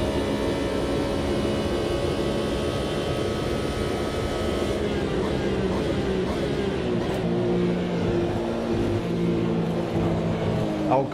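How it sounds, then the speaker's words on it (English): A Porsche GTE race car in the racing game Automobilista 2 during a Le Mans six-hour race, its engine droning loud and steady, the pitch shifting and rising toward the end as it accelerates. "there's a GTE Porsche in front of me. Time for a very loud car."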